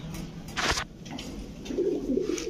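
Pigeons at a pigeon sale give low, soft cooing calls close by, with a brief flutter or rustle early on and no talking.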